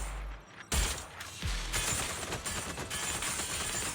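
Full-auto gunfire in a video game rattles out in rapid bursts, loud and near, with sharp cracks and a thump, and no one talks over it.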